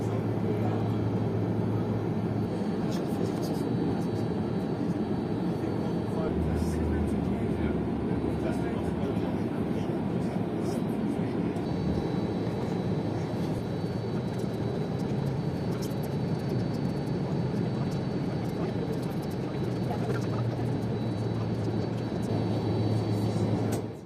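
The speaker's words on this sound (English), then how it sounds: "Taxiing to the gate was a slow affair as the taxiways at Palma are not intended for big jets like the 747." Lufthansa Boeing 747-400 taxiing slowly to the gate at Palma de Mallorca, heard from inside the cabin as a steady, loud low engine rumble and hum throughout with no break.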